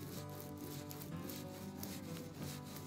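A small tool rubbed back and forth across a plastic transfer sheet laid on a coaster, giving a steady, close, continuous scraping with no pauses.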